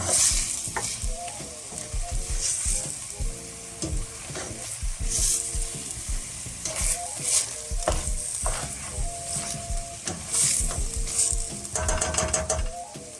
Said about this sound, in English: Let that saute for a bit.